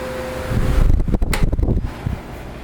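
A late-1970s or early-1980s blue Galaxy 2150 12-inch oscillating table fan whirs on its low setting, a steady airy hum with a slight off-balance wobble and a short burst of louder rushing air midway.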